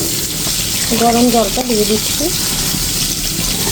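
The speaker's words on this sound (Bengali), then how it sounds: "আর এই একটু নেড়ে দিয়ে তারপরে কিন্তু গরম জলটা দিয়ে দিচ্ছি।" Hot water is poured into a pot of cooked, fully softened lentils (dal), giving a steady rushing hiss throughout while a voice briefly speaks over it.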